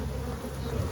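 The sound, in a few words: honeybees buzzing in a packed hive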